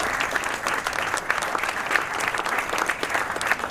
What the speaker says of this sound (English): Please give a warm round of applause to the gorgeous and stunningly beautiful Lucinda.